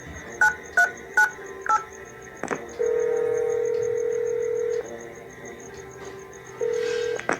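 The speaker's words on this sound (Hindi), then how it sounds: "अपने मोबाइल से किसी को फोन करने लग जाता है।" A mobile phone dials a number with four or five short keypad beeps, then gives a steady tone and a pause before another brief tone, heard close and clean with no voices.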